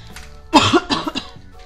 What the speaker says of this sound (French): Désolée, je tousse encore un peu